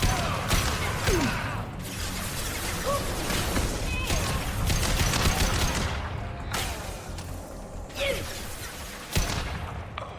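Gunfire in the video game Mass Effect 2, with dense, rapid bursts of shots and impacts running through a busy combat mix, loud and continuous, with occasional sharper cracks.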